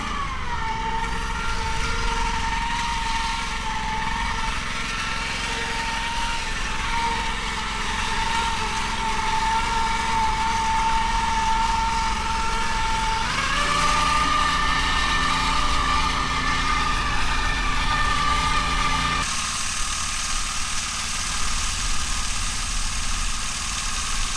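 A rice planting machine's engine runs in a field, a steady droning hum with tonal whine that shifts pitch a few times as the throttle changes, continuous and fairly close with no talking.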